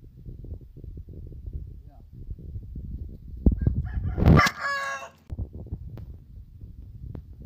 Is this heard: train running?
no